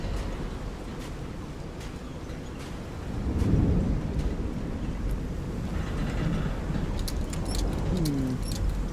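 Storm in Call of the Sea rumbles as a low, rolling wash of thunder and wind, swelling into a heavier roll partway through before settling back into a steady, distant roar.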